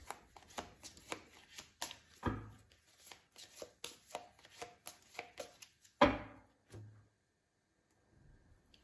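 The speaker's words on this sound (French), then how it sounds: "il y a quelqu'un qui descend les escaliers. Vous allez peut-être entendre les pas." Footsteps of someone walking down a staircase, a run of soft, evenly spaced thuds heard close, ending in a couple of heavier knocks and then quiet.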